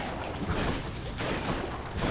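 Explosions in the action video game Hades, a dense, continuous burst of booming blasts packed close together, loud and near with no talk over them.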